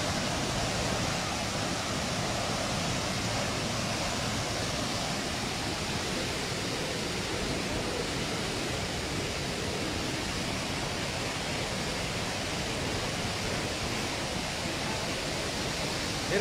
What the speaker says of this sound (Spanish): Mire toda esa agua que va